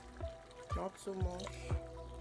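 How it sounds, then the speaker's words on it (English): Water pours and trickles into a pot of pepper stew in short splashy bursts, close by, while a person talks quietly over it. "Going to be adding some water"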